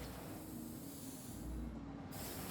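Pigeon-cure chemical sprayed in the Spider-Man video game, a quiet, steady airy hiss lasting a couple of seconds over faint background rumble.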